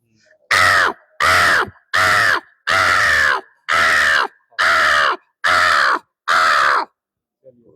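A person imitates a crow, giving eight loud, harsh caws in a steady rhythm, each lasting about half a second, then stopping.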